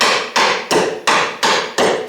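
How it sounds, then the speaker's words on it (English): A block of wood struck repeatedly to knock a bolt down while mounting an RCBS Rock Chucker Supreme reloading press: six loud, evenly spaced thuds with brief decaying tails, no talk. "it looks like I'm going to need a block of wood or something to knock it down"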